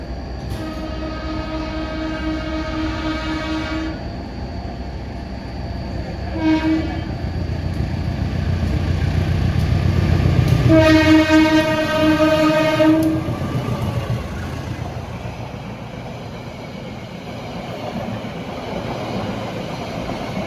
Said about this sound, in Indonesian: Tadi udah ada pengumuman kalau kereta api Logawa bakal melintas langsung.